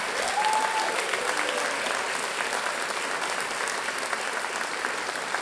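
An audience applauds the finalists at a regional university science-communication final, a dense, steady clapping that fills the hall for the whole stretch with faint crowd murmur.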